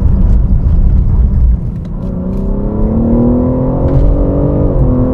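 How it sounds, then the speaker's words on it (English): A BMW G80 M3 heard from inside the cabin while driving, its engine note rising steadily as it accelerates, loud and continuous with road rumble beneath and no talking. "from inside, the car sounds pretty good"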